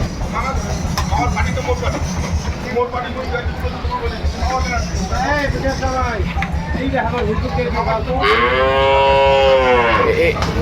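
Cattle at a bull market moo repeatedly and loudly at close range, with long drawn-out bellows, the last one strongest, over a crowded background of people talking.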